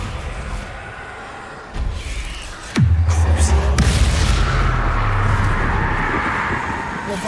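A spell effect in a Hogwarts video game lands with a sudden deep boom and a heavy low rumble that lingers under ambient game sound, following a softer thump moments before.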